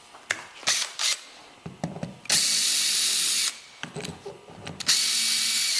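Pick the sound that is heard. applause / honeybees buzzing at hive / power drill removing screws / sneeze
power drill removing screws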